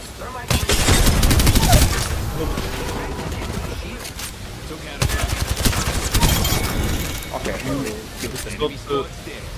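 Rapid bursts of automatic gunfire from the video game Apex Legends, loud and repeated in two main volleys, with people talking excitedly over the shooting.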